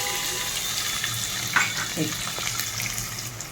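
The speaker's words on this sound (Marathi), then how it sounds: "तेल अगदी गरम झालं आहे त्यामुळे मिरच्या पटकन तळून होत आहेत" Green chillies frying fast in very hot oil for Diwali poha chivda, a dense, continuous hiss of bubbling oil with a couple of brief louder crackles midway.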